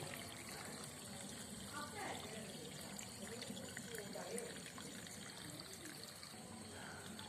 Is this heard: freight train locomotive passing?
no